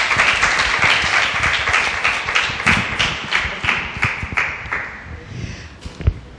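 Audience applause at a live radio talk event, with distinct close claps at first, thinning gradually into scattered hand claps and fading out by the end.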